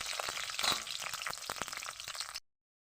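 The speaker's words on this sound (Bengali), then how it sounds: "এগুলো একটু ভাজা ভাজা হোক।" Slit green chillies and dry red chillies fry in hot oil, a bright continuous crackling sizzle with sharp spatters up close, cutting off abruptly before the end.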